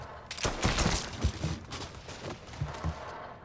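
Distant gunfire in the open-world crime game Mafia III, a ragged volley of cracks and pops echoing from far off with some louder nearby thumps over a busy background.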